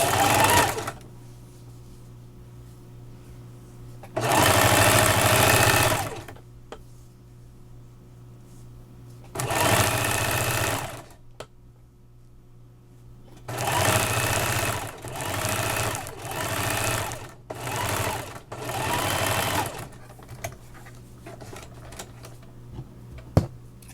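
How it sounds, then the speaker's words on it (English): A sewing machine stitches and back stitches a quarter-inch seam down a fabric tube for a headband elastic, running in loud, steady bursts of several seconds separated by quiet pauses. "So I'm gonna stitch, back stitch,"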